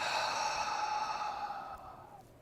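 A single long exhale during a guided meditation, breathy and close, fading gradually over about two seconds with a soft airy hiss and no talking.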